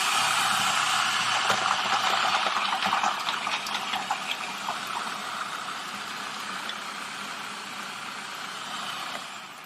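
A Cuisinart FP-13DGM Elemental 13-cup food processor runs on high while chopping garlic, giving a steady whirring motor drone with rattling clicks from the blade early on, then settling into an even hum.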